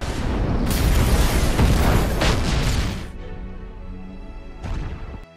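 A trap explodes in a factory: a loud explosive blast with a crashing, roaring burst that rumbles for a couple of seconds, then fades into a quieter ringing tail and a brief second thud.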